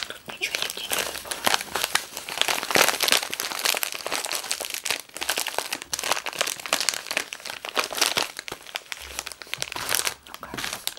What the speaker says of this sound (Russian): Тут пакетик было легче открывать.